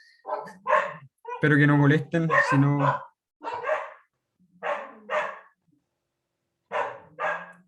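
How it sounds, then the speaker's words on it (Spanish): Dogs bark intermittently in the background while someone talks over them. "No sé si se escuchan mis perritas ladrando."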